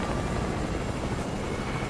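Helicopter in Fortnite Season 3, a steady, loud rotor and engine roar filling the whole moment with no pauses, close up.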